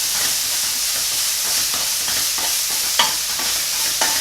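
Ingredients scraped and stirred in a sizzling pan with spices, a steady loud frying hiss with repeated sharp scrapes of the utensil against the pan, no voices.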